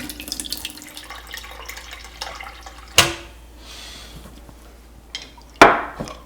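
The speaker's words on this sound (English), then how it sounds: "I use the filtered water from the refrigerator and I pour it in this" Filtered water pours into a pot of bones for broth, a steady running trickle with two sharp clanks or splashes partway through, close by and alone.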